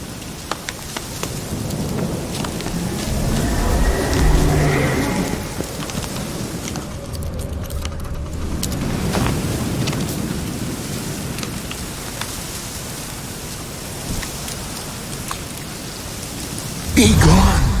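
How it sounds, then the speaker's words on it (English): Steady rain with low rumbling thunder in The Witcher 3 video game, a continuous moderately loud wash of rainfall with rolling swells and a brief heavier burst near the end; a voice may murmur faintly underneath. "Looks like rain."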